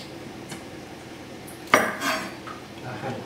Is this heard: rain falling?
no